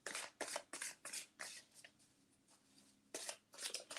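Oblong tarot cards being shuffled by hand, close and crisp, with repeated quick riffling bursts separated by brief pauses.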